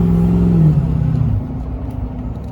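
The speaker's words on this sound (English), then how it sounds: "Turbo spooling," Turbocharged car engine spooling, a loud whirring whine that slides downward and fades after about a second, leaving a quieter idle rumble alone.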